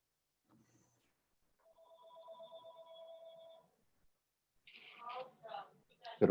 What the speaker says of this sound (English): Gotta wait for my phone to stop ringing.